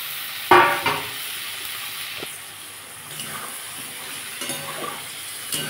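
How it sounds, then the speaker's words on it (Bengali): Ridge gourd, already fried, stirred into a sizzling pan of sesame masala: a sharp scrape and clatter near the start, then a steady soft hiss of frying with occasional light utensil taps. "ঝিঙেগুলো দিয়ে একটু আমি নাড়িয়ে নেব।"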